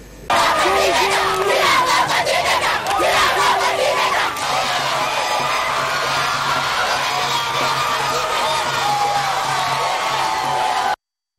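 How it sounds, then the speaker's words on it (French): A dense, loud crowd cheers, shouts and whoops continuously around the Congolese president as he leaves Kitambo hospital, with rhythmic yelling early on settling into a steady roar. "avant de prendre un bain de foule à la sortie de l'hôpital de Kitambo"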